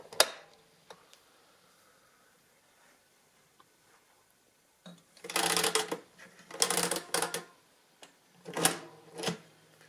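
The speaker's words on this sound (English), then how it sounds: "To clear the main register, you have this clearing knob on the side. You have to turn that one full rotation" Mechanical clicking and ratcheting from the clearing knob of an Addimult Ziffrex adding machine being turned a full rotation, with faint ticks first and then several louder clattering bursts close by.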